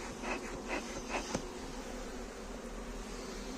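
A steady, dense buzzing of many honeybees close by at a hive, with a few faint clicks and rustles near the start.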